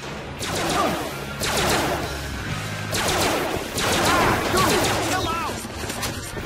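Loud gunfire in the Family Guy: Back to the Multiverse video game, repeated rapid bursts of automatic shots over a dense, continuous action backdrop.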